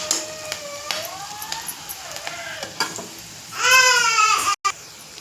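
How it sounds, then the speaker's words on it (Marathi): Onion fries in hot oil in a pan for poha, giving a steady close sizzle, with a whining, crying-like tone running over it and a louder burst near the end. "कांदा छान असं भाजून घेऊया तेलात."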